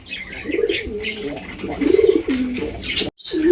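A pair of Lakkhi pigeons cooing close by, repeated throaty warbling coos in a steady run, with faint chirps and a brief break near the end.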